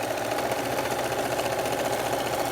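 A sewing machine stitches rope into a coiled rope bowl, running continuously at full speed with a steady fast mechanical whir and chatter, close and loud, no pauses.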